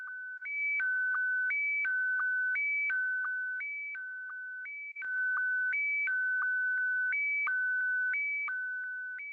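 Steady electronic SSTV image-transmission tones stepping between two pitches in a regular alternating pattern, clean and continuous with no voices, like a radio data transmission.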